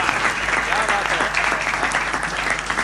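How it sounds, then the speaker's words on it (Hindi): Audience applause at a Hindi poetry recital, dense steady clapping from a crowd throughout, with a faint voice beneath. "सच लगे तो आपकी तालियां सर्वाधिक उठें"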